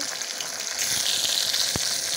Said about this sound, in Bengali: এবার মাথাটা ভেজে নেব।